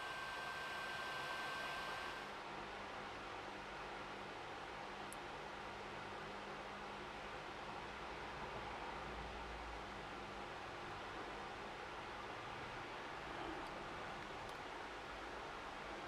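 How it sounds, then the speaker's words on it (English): A heat gun set to 190 blows on adjustable shim stock to loosen its adhesive, a steady close hiss of rushing air with a faint fan whir, uniform and unbroken throughout. "Now taking the heat gun, I currently have it set to 190."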